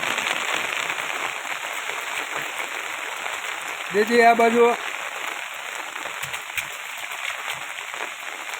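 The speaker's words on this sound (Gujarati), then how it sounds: "મસ્ત વરસાદ ચાલુ છે આ ત્રીજો રાઉન્ડ છે વરસાદનો" Steady rain falls during a monsoon downpour, a continuous close hiss of drops on surfaces throughout, with a brief burst of voices talking over it near the middle.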